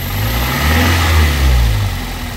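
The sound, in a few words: car engine revving with a cylinder misfire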